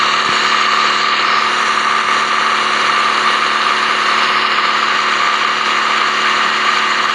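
A Toyota car engine in the Car Parking video game drones loud and steady at a constant pitch, an unbroken mechanical tone with no voices.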